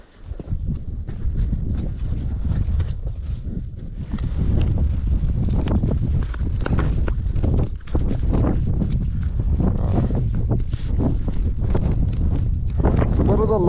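Strong wind buffets the microphone in the Spiti Valley mountains, a loud continuous roar with gusts that swell and dip throughout, while people talk over it.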